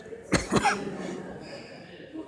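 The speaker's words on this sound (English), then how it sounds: "uncontrollable cough" Two sharp, close coughs in quick succession, then a brief vocal sound and quiet room noise.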